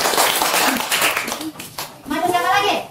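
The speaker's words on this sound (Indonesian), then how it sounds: "tepuk tangan untuk kelompok 1" Classroom of children clapping for a group after a lesson on fasting, a quick burst of scattered hand claps mixed with lively kids' voices, close and fairly loud, a voice rising clearly near the end.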